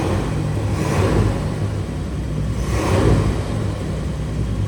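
A 1959 Cadillac engine fitted with an Edelbrock carburetor runs close by with a steady low rumble and two gentle swells of revving, and no voices.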